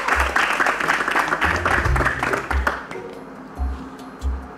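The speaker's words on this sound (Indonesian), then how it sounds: "tepuk tangan dulu untuk Max dan Babe" Studio audience applauding Max and Babe on an Indonesian variety show, a broad wash of clapping with low thumps and murmur that thins out toward the end.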